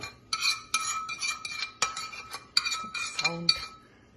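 A spoon stirs cucumber pickle in a bowl after tempered oil with fenugreek, cumin and mustard seeds is added, giving repeated scraping clinks in short bursts, close and fairly clear.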